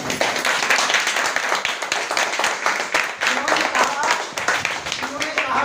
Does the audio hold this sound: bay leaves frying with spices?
no